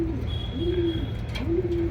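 Pigeons in a loft coo in soft, low repeated phrases, close by, over a steady low background rumble.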